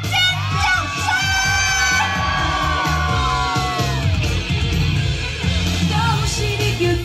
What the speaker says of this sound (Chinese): 我说到尖叫声，大家要非常大声，好不好？ 一二三，尖叫声！